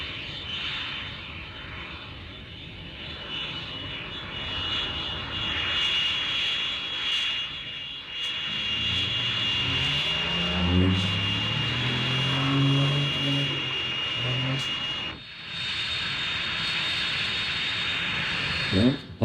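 An F-86 Sabre jet taxiing on the ground, a steady close engine whine and roar with a broad hiss, a rising tonal rumble through the middle, then a brief dip before the roar resumes.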